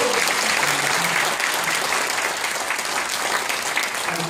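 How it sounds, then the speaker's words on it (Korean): An audience at a book launch claps loudly and continuously, a dense wash of applause from a crowd indoors that holds steady for several seconds. "여러분 이쯤에서 박수 한번 보내주십시오"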